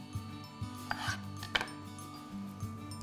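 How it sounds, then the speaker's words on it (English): A knife cuts an orange into thin rounds on a board. A few faint, soft cuts and taps sound over a low background hum, with no talking. "now I'm just going to slice the orange this way into about a centimetre, maybe a little bit thinner, nice rounds"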